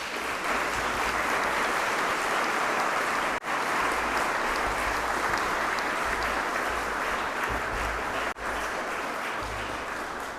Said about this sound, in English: Let us give them a rousing round of applause.